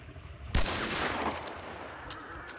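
A single loud gunshot in Hunt Showdown with a long rumbling tail, followed by a few fainter distant cracks.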